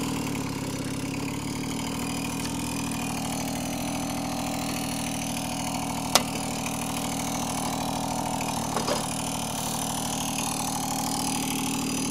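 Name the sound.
Babetta 210 moped engine running while riding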